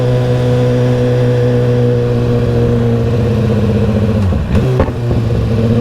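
A Ducati Panigale 1199 sport motorcycle's engine hums loud and steady, then a sharp exhaust pop and a brief dip in engine tone interrupt it near the end, with no talking.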